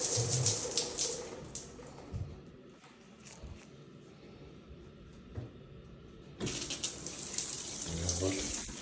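Water gushes from a hose or tap to rinse soap off a tiled floor during a deep clean, strong hissing spray at the start and end with a quieter trickling spell between, nearby and unaccompanied by talk.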